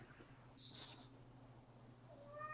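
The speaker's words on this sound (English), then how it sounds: "Did somebody's cat meow?" A domestic cat meows once, faint and distant, under a steady low hum, with a short rising call near the end.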